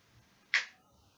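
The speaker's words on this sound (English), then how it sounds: "Snap your fingers." A single sharp finger snap, crisp and close, in an otherwise quiet room during a clinical aphasia test.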